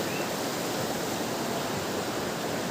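The Karbi Langpi river flows steadily with a continuous broad rushing wash, close and even throughout, heard at a forest campsite with no voices.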